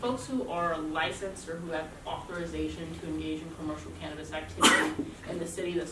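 A single sharp sneeze bursts out from someone in the audience during a university club talk on the cannabis industry, cutting briefly across a woman's steady lecture.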